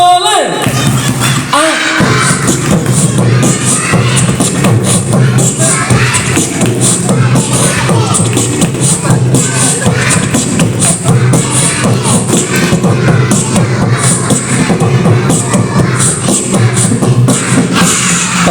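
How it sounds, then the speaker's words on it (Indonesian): Children perform the rhythmic 'tepuk anak soleh' clapping chant together, a dense, steady run of group claps with thumps and crowd noise filling the whole stretch after a brief quiet opening. "Yuk semangat sekali lagi, tepuk anak soleh"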